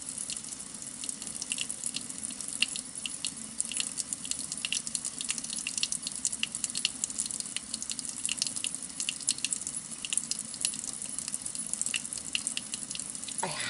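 Steady stream of tap water running into a sink while makeup brushes are washed, a continuous broadband splash with small clinks, close and alone without talk.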